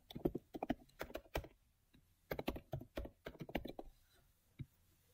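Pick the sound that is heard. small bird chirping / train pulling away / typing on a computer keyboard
typing on a computer keyboard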